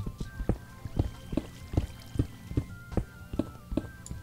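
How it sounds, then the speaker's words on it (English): Water in Minecraft, heard underground but unseen, trickles and splashes softly at a fairly low level, with little dripping pulses repeating in an uneven rhythm. "Etho. Well, can you hear water and not be able to see it by digging around for it?"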